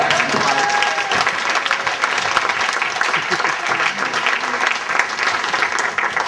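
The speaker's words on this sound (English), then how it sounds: "you're now supposed to clap the ushers" A wedding reception crowd applauds the ushers, dense continuous clapping filling the room at close range, loud and sustained throughout.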